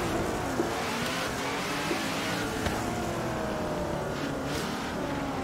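A prototype-style race car's engine from Forza Horizon 3 drones steadily with harmonic pitch lines rising and falling as it revs, loud and continuous with faint knocks from the road.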